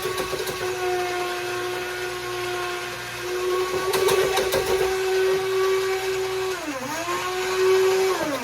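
An immersion blender whirs steadily and loudly throughout while oil is slowly drizzled in, its pitch dipping briefly near the end as the load changes.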